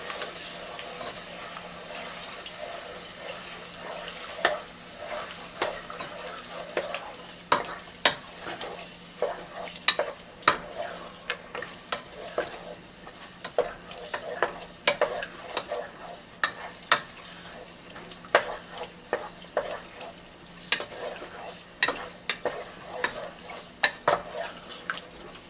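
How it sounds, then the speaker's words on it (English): A pot of Ghanaian jollof rice with tomato paste is stirred slowly, with repeated close spoon scrapes and knocks against the pot over a soft simmering hiss. "Now I stir again slowly."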